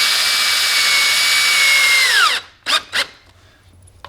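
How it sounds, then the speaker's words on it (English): A power drill whines at high speed driving self-tapping screws, its pitch dropping as it spins down after about two seconds, followed by two short knocks or bursts and quiet. "Go ahead and just put 2 screws in there."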